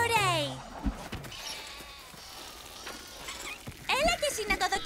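A cartoon sheep bleats in wavering cries at the start and again near the end, with animated character voices talking in between.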